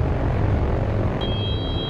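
A Buffalo aircraft flies at 4,000 feet above Yellowknife with a landing gear that won't lock down, heard as a loud, steady engine drone filling the cabin, with a thin whine rising partway through.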